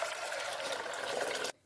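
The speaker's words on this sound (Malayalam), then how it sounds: "അത് വേവാൻ ആവശ്യമുള്ള വെള്ളം ഒഴിച്ചു കൊടുക്കാം." Water poured steadily into a pressure cooker holding pigeon peas, a continuous close splashing gush that stops abruptly at the end.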